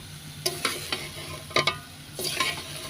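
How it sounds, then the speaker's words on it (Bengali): Winter vegetables tossed with spices in a pan, frying with a steady background sizzle punctuated by several sharp scraping stirs of a spatula, close and moderately loud with no talking. "মশলাগুলো সুন্দর করে মানে মিক্স করে নিচ্ছি সবজিতে সবজিটা একটু কষায় নেব"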